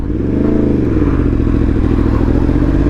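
Yamaha MT-10 motorcycle fitted with a bigger rear sprocket, engine droning loud and close under steady riding load with a rising and falling rev pitch throughout, no voices.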